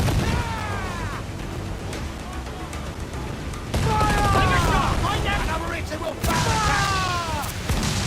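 Naval cannon fire in Assassin's Creed IV Black Flag during a pirate ship battle, deep booming volleys rumbling loudly over continuous sea and ship noise, with shouted commands and crew voices mixed in.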